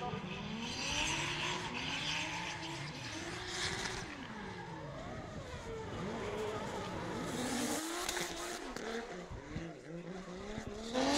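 A 2JZ-powered drift car making around 600 horsepower howls loudly at full throttle through a big-angle drift during Pro-Am qualifying, its engine note wavering continuously with tire squeal and crowd-level racing din around it.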